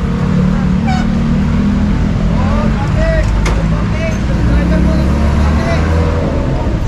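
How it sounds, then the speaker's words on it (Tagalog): Busy road traffic during a city clearing operation: steady engine rumble of idling and passing vehicles, with occasional horns and squeaks, while people talk nearby. "Traffic."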